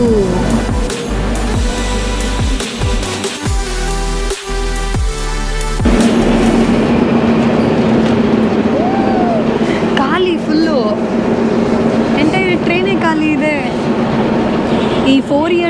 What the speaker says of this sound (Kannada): ಸೋವಿಯತ್ ಕಾಲದಲ್ಲಿ ತಯಾರಾದಂತಹ ಮೆಟ್ರೋ ಟ್ರೈನು